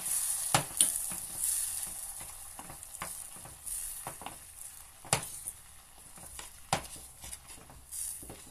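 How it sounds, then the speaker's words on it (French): Butter and chocolate melt together in a bowl while being stirred for a children's chocolate cake, soft intermittent scraping and tapping strokes against a faint sizzling background, close and quiet with no voices. "Vous remuez un peu."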